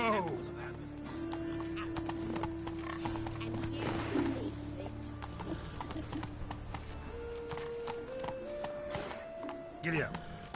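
Hooves of the horse Roach clip-clop at a gallop in The Witcher 3 game, steady rhythmic thuds under a voice urging the horse on, with a brief whinny partway through.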